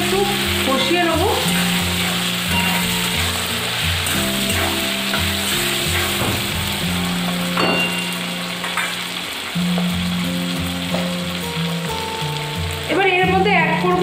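Cumin, ginger paste and chili powder fry in hot oil, a steady close sizzle running throughout with scraping stirs, while a tonal background hum and music-like drones sit underneath.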